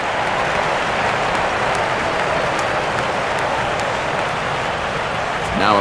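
Stadium crowd of over 31,000 cheering and clapping in the baseball video game MLB 12: The Show, a dense, steady roar of applause with a broadcast voice faintly underneath.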